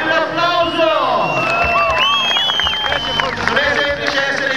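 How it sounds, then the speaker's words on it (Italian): Large crowd at a Red Bull bike night event in Trieste cheering and whooping loudly, mixed with applause, while an announcer's amplified voice rings over the noise. "Dai gente un applauso!"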